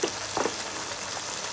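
Fish fries in a pan with a dense, continuous sizzle close by, plus a faint stir or two near the start and no talking.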